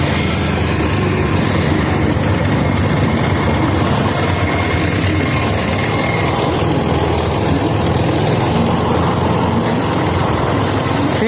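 A TVS XL 100 heavy-duty BS6 moped from 2020 runs steadily during a ride, a continuous buzzy engine drone mixed with road and wind rush, loud and close with no talk.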